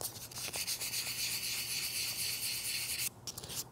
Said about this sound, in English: after I do all the sanding